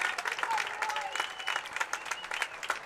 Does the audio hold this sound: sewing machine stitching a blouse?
no